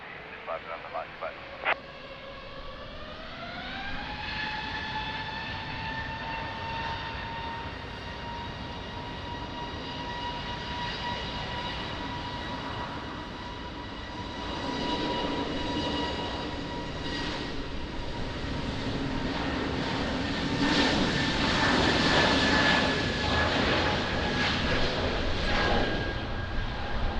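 A jet at Lisbon Airport spools up, its whining engine tone climbing early and then holding steady while a broad rumble thickens and grows louder toward the end as the plane rolls for takeoff, with radio voices talking over it.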